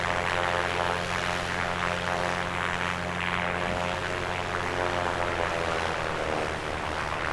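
An A2A Comanche's propeller engine drones steadily at moderate loudness inside Microsoft Flight Simulator 2024, a continuous buzzing hum with slight pitch wavering as power eases back.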